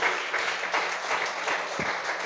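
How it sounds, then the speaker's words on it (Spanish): Congregation applauding during a Spanish-language church service, a steady wash of many hands clapping at moderate volume with a faint background hum. "Denle fuerte aplausos a nuestro Dios."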